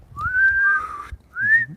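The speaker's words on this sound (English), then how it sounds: "Try to whistle." A person whistles outdoors during a snowstorm in Dothan, Alabama, giving two clear rising tones, a long one then a shorter one, which echo faintly between buildings in a quiet, snow-deadened setting.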